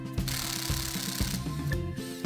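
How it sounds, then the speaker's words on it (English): A hand ratchet clicks steadily while pivot bolts come off the bed bar of a reel mower cutting unit in a workshop, a close, continuous metallic ratcheting with light mechanical knocks throughout. "Here I'm removing the pivot bolts for the bed bar."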